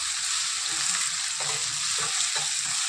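Onions sizzle steadily in a pan for an egg curry while a spoon stirs them, with a constant bright frying hiss and a few soft scraping strokes, close and without speech.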